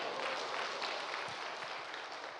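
Steady applause from a church congregation, a dense wash of clapping that holds even throughout without voices.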